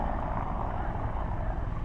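Marine One presidential helicopter flying a loop over the Smithsonian in Washington, a steady broadband rotor and engine rumble at moderate distance, continuous for about two seconds with no talk.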